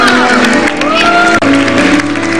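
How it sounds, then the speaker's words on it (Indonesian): Studio audience clapping and cheering on an Indonesian daytime talk show, brief and lively, mixed under sustained music tones. "Kasih tepuk tangan tuh perjuangan."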